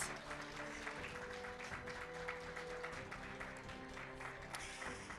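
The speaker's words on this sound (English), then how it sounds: "May we continue clapping for Professor until he makes it to the podium," An audience at a university innovation awards ceremony applauds a professor walking to the podium, a faint, steady wash of distant clapping over a humming tonal background.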